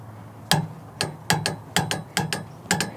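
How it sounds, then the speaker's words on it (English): A torque wrench tightens hitch bolts to 60 foot-pounds on a Torklift Super Hitch install. Seven sharp metallic clicks sound close and fairly loud, coming singly and in quick pairs. "All right, I need my torque wrench. So 60 foot-pounds."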